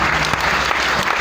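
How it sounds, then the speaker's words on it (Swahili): Congregation clapping in a Pentecostal church during the opening of a conference, a dense steady burst of applause filling the hall, close and loud with no gaps. "Kisha kuna makofi."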